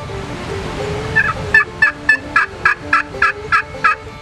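Wild turkey gobbler in a field late in the season, calling as it moves toward a hunter's setup: a run of about ten sharp, rattling gobbles at a steady rhythm, fairly close and loud over low background noise.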